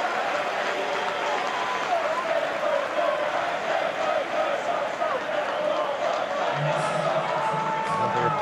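A capacity stadium crowd at a Manchester City vs Arsenal match in PES 2021, a steady roar of murmuring and cheering throughout, with a commentator's voice over it.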